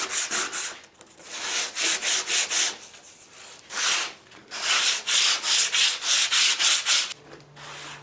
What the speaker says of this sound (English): I'm sanding this just to knock the high pieces off